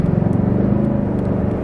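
Steady, close engine drone inside a Ford Fusion pulling hard in sport mode, a smooth rising hum with road rumble and no voices.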